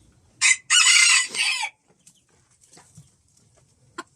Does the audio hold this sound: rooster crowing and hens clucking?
yes